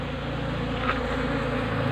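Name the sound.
honey bees buzzing, returning to hive box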